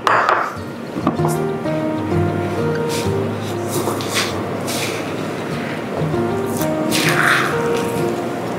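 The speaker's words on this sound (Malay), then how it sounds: "So kita hanya masukkan saja pistachio paste ni, kita mixkan sekali dengan kunafa." Soft, wet squishing as pistachio paste is folded into kunafa, in a few short bursts heard close up under steady background music.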